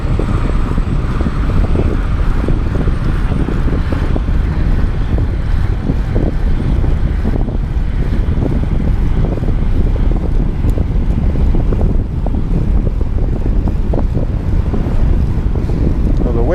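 Loud, steady wind buffeting a microphone during an early-morning bike ride along the coast near Huntington Beach, a constant low rumbling roar throughout with no voices.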